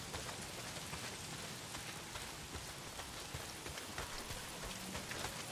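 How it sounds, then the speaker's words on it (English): Heavy rain in the video game Days Gone: a constant dense hiss of drops striking surfaces, even and unbroken, fairly quiet, with no voices. "Well, not if it's pissing down rain."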